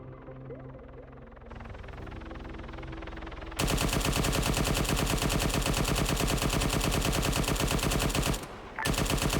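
Automatic gunfire in the military shooter game Arma 3, a loud, sustained rapid burst that starts after a quieter stretch of background noise, breaks off briefly and then resumes.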